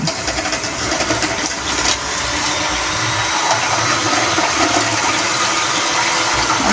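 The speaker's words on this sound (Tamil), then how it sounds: "இந்த பாலையும் சக்கரை பானையும் ரெண்டு நிமிஷம் இதால் அடிக்க போகிறோம்" An electric mixer beats milk and sugar, a loud, continuous whirring drone with a brief dip near the start, then steady churning to the end, with no talking.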